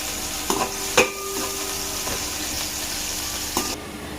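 One large onion sizzles steadily in hot oil in a home kitchen pan for a Telugu-style chicken and potato biryani, a continuous loud hiss broken by a few sharp crackles and stirring knocks.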